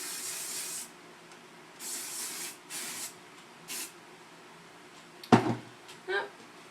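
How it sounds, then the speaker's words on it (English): A gel spray is misted onto big, naturally curly hair in several short hissing bursts, close and soft, followed by a brief louder clatter like a bottle being set down. "It's like a gel spray."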